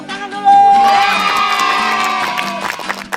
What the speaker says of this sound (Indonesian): Ini seru banget, tepuk tangan dulu.